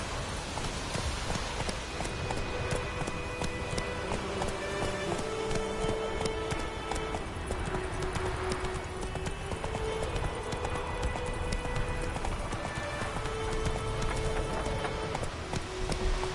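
Hooves of Roach, the horse in The Witcher III, clip-clopping at a brisk gallop in a steady rhythm over game ambience and music, moderately loud and continuous, with no voices.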